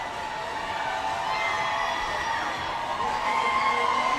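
Dense crowd screaming, whooping and cheering at a Pride diversity parade in Tampa, a continuous loud roar of many voices with no gaps throughout.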